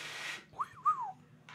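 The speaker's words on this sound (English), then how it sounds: "I can just regularly whistle, so that works for me." A person whistles a short sliding tune of a few gliding notes, alone and fairly quiet, with a faint breathy noise before it.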